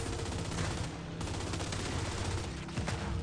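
Dense automatic gunfire from the Gears 5 video game, a continuous loud barrage of rapid shots with explosions and battle noise throughout, no talking.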